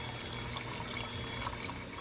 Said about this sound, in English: All right, just added the water,